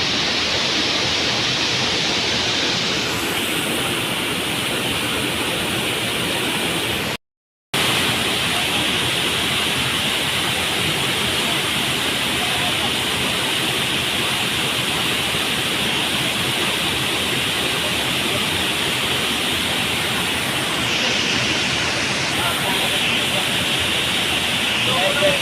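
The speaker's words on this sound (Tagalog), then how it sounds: "Another waterfall." Waterfall inside Central Cave in Catbalogan City, Samar, a strong current pouring in a loud, dense, continuous roar close by, with one brief dropout.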